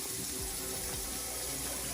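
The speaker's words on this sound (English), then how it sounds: "for some reason I feel like washing this yam one more time" A yam being washed under a running kitchen tap, with a steady, fairly loud rush of water and splashing continuing throughout, no voices.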